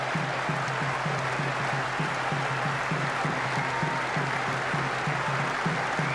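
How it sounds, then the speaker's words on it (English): Sustained applause from a large crowd at Edgbaston cricket ground during a Pakistan versus England match, steady and dense throughout, with a low rhythmic pulse running beneath the clapping. "a great ovation from this Edgbaston crowd"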